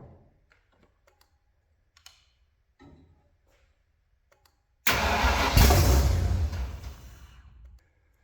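An abandoned supercharged 1965 Ford engine, choked, sits quiet through small clicks and taps, then abruptly cranks and catches with a loud, rough, close roar that runs for about three seconds and fades.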